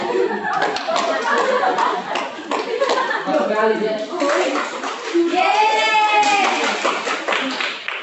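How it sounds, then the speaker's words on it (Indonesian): Classroom applause for a student group at a microteaching session, a few seconds of hand clapping mixed with children's chatter and a teacher's voice speaking over it. "Saya beri tepuk tangan untuk kelompok 1."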